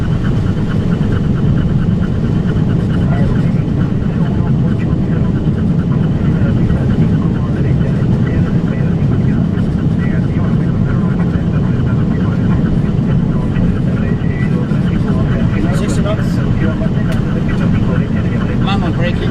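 Boeing 767-300ER thrust reversers roar steadily through landing rollout at Mexico City in a storm, a dense, loud, continuous low rumble with cockpit voices talking over it.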